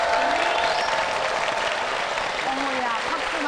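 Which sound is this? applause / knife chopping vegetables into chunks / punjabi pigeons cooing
applause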